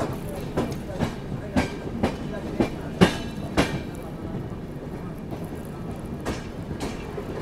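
The Okha Express rolling along rails after leaving Khurda Road, with rhythmic clickety-clack wheel beats over a steady rumble, heard from inside the train.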